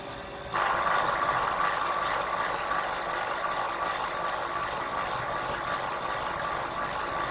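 A three-phase induction motor drive runs with phase A disconnected, its steady loud hum and high tonal whine starting abruptly about half a second in and continuing without a break.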